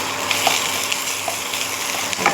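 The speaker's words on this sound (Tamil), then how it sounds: "இப்போ இஞ்சி பேஸ்ட்டு கொஞ்சம் போட்டுக்கலாம்." Onions and ginger paste fry in a pan with a continuous close sizzle, broken by small scraping taps as they are stirred, and no voices.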